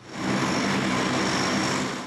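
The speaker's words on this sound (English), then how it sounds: "The planes are back in action and heading out to sea." A US Navy Poseidon aircraft's engines give a loud, steady broadband roar close by, holding constant with no voices.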